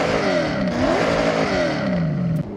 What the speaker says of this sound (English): what you heard there was a V8 inside of a Miata